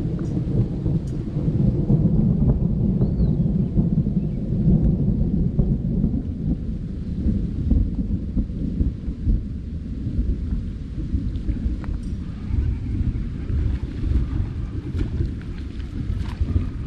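Low thunder rumbling through a thunderstorm over water during a bass fishing outing, a continuous deep roll mixed with steady rain and wind, moderately loud and unbroken throughout with no voices.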